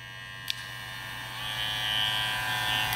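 A JRL Onyx 2020C electric hair clipper, a couple of years old and louder with age, runs close by with a steady, bright buzzing hum, a small click near the start and the tone rising slightly.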